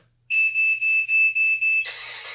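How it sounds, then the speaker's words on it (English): A steady high electronic beep from a HUINA 1592 RC excavator binding to its controller, lasting about a second and a half and faintly pulsing, then giving way to a hissy mechanical whir. "You heard the beep, which lets us know that it's bound to the controller"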